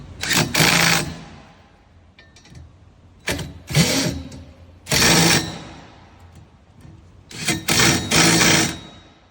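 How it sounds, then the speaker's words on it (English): A small 1/4 inch impact wrench tightens nuts on a Porsche GT4RS roll bar in four separate loud, rattling hammering bursts. Each burst lasts about a second, with quiet gaps between them, close by. "put on your nuts. And then we just use a little 1/4 inch impact."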